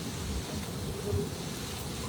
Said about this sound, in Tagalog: Laki ng ulan